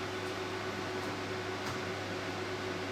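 Steady hum of the crystal cooling system in an IPL, Nd:YAG and RF 3-in-1 machine, a constant fan-like whir with a faint tonal drone running evenly throughout, with no talk.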